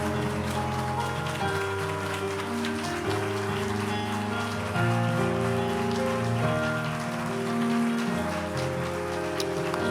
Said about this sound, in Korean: 또 계속 뜨겁게 박수로 축하해 주시면 감사하겠습니다